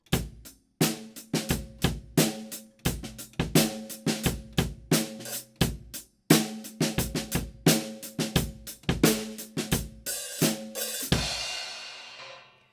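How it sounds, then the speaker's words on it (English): A full drum kit plays a busy groove with steady kick, snare and cymbal hits in a tight repeating pattern, ending on a crash that rings out and decays. "you can hear a little drum groove sound a bit like this."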